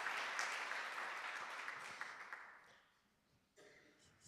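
Audience applause for authors at a book award ceremony, a soft wash of clapping that fades away over a few seconds, fairly distant and quiet, with a faint cough near the end.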